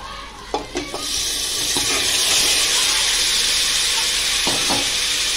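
Chicken pieces drop into hot fried masala in a cooker and set off a loud, bright sizzle that swells and holds steady, with a few clanks and stirring knocks, close up.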